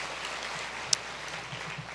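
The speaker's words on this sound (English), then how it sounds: "Help me clap for David" Soft, steady clapping from an audience at an awards event, faint and even throughout with one brief sharp click partway through.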